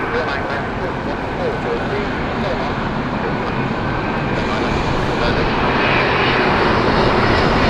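British Airways airliner departing Heathrow Airport, a loud, steady roar of jet engines with a broad rushing hiss that swells slightly toward the end.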